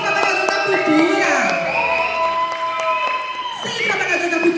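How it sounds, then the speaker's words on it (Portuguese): At a cultural event, a crowd cheers and claps for culture workers, with loud whoops and shouted voices over steady close applause throughout. "Salvas de palmas para o trabalhador da cultura."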